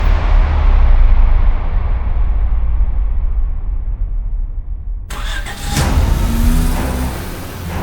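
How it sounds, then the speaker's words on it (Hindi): A car engine runs steadily while the vehicle is driven, a loud low rumble that continues under a sudden shift to a brighter interior ambience with faint clicks partway through; no one speaks. "चलो गाड़ी चलाओ"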